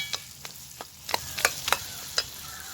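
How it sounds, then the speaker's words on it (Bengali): Olives frying in a pan for a sweet, sour and spicy olive pickle, with a series of sharp, spaced crackles and stirring taps that grow a little busier toward the end, fairly quiet and with no talk. "জলপাইটা একটু ভালো করে ভেজে নেবেন"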